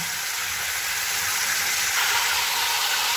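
Bay leaves dropped into hot oil for a chicken curry sizzle in a steady, bright hiss that stays loud and even from start to finish, close up, with no speech.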